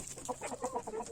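A backyard chicken gives a short run of soft, quick clucks at moderate distance, several rapid notes in about a second over quiet background.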